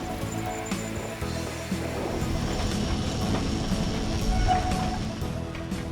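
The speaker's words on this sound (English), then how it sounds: "The tram climbing up the hill is also connected to the tram going down the" A cable tram climbing a hill rumbles steadily with rattling, clattering mechanical noise and a faint high whine, continuous and fairly close throughout.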